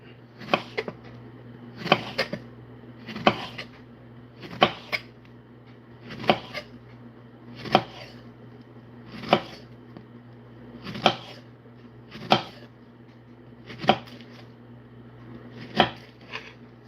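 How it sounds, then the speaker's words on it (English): Ripe plantain being cut on a board: a regular series of about a dozen sharp knife strikes roughly every one and a half seconds, crisp and close over a low steady hum, no talking. "That's the ripe plantain. Cut it up."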